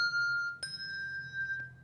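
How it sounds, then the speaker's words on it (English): A handbell is struck and rings with a bright, sustained metallic tone, then a second strike at about 0.6 s sounds a new note before the ring is damped and cut short, heard alone and close with no talking. "We have to ring it, stop the sound, like that."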